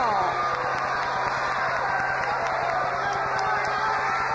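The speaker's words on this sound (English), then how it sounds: "Tremendous anticipation by this capacity crowd." A capacity arena crowd at a 1994 Royal Rumble wrestling event, with a steady loud roar and murmur filling the space, plus scattered shouts and a few whistles over a continuous wash of noise.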